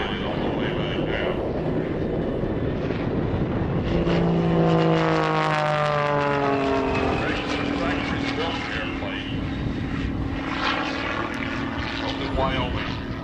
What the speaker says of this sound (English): Classically built biplane.